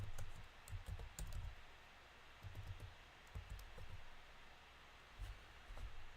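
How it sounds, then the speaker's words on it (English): Fingers tap quickly on a computer keyboard in uneven clusters of soft clicks, close and quiet over a steady background hiss. "I know I'm probably typing this in wrong."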